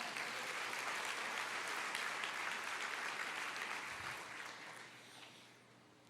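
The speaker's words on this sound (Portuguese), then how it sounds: "Você pode dar uma salva de palmas?" Audience applause at a church family conference, a dense, steady wash of many hands clapping that holds for several seconds before thinning and fading toward the end.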